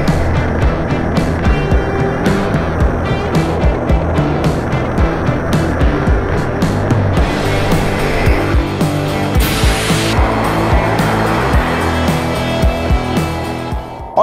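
An RC rocket car fitted with a CO2 cold gas thruster fed by two cartridges makes a loud, steady whirring run with a rapid rhythmic ticking. A harsher burst of hiss swells near the middle, then everything cuts off at the end.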